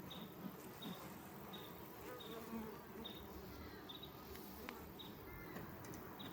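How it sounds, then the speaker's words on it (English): Bees buzzing close around an open hive while honey is harvested, a steady low droning hum with faint high chirps repeating in the background, quiet overall. "That bee just flew on the phone"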